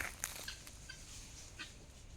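Guinea fowl on a farm give a few short, faint clucking calls from some distance, spaced irregularly over a quiet outdoor background.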